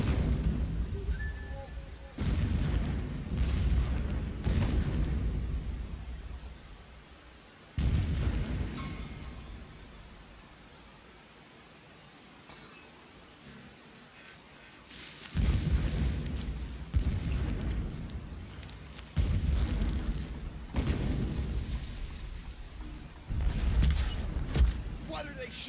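Combat in the video game Horizon Zero Dawn, with repeated heavy booming bursts of explosions and gunfire in loud clusters separated by a quieter stretch, with talk over parts of it.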